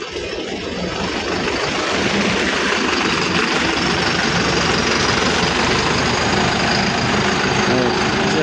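A motorcycle engine strains on a landslide-damaged road in Camarines Sur, a loud continuous labouring drone with people talking over it.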